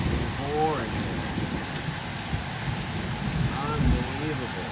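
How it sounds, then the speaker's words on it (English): Heavy rain pours down hard in West Mifflin near Pittsburgh, Pennsylvania, a dense, continuous roar of water with faint bird-like chirps now and then. "It is pouring here."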